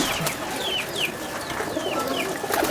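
Pet pigeons in a fancier's loft coo and chirp close by, with soft throaty calls and brief rising whistles over a busy background murmur.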